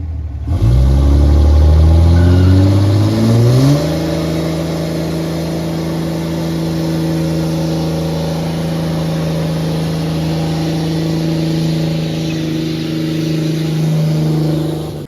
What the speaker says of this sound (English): Let's go roast some tires for this thing.